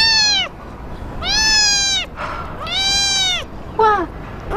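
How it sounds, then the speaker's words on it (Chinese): A kitten meows four times in a TV legal drama scene, with three drawn-out, clear cries followed by a shorter one, close and fairly loud with no talk over them. "这还有一只小猫。"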